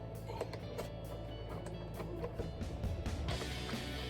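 A GoPro Hero 8 being unscrewed from its box mount produces steady close plastic clicking and rattling against a continuous background hiss, with no speech.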